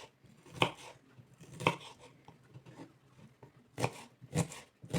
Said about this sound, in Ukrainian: Ось так я перерізаю цибульку і ось так нарізаю дрібненько.